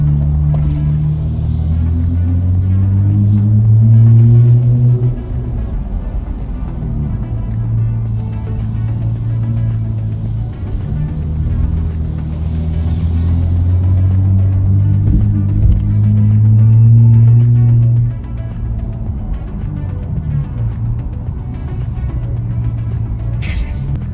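Acura MDX Type S with an aftermarket exhaust, a low engine drone that swells and settles in slow waves, moderately loud with a deep resonant hum and no talk.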